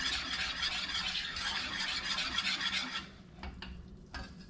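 A whisk or spoon scraping steadily through a flour and butter roux cooking in a pan, a soft continuous hiss and rasp for about three seconds, then a few quieter clinks and scrapes.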